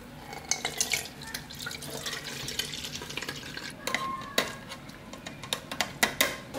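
Homemade lemonade poured through a too-small kitchen sieve, a close, quiet trickle and splash of liquid broken by irregular clinks and drips.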